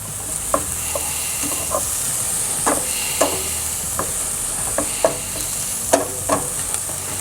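Onions and green peppers fry in a pan for a breakfast casserole, a steady hiss and sizzle punctuated by occasional sharp utensil scrapes and taps.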